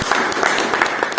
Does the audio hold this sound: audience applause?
yes